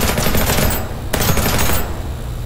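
Guns firing in the video game People Playground: two dense bursts of rapid, loud, harsh automatic shots, split by a brief gap.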